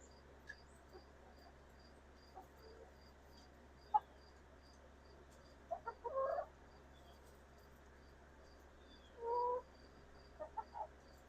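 Splash Americana chickens give a few soft, fairly close clucks and short calls over a quiet background with a steady insect-like chirp and low hum.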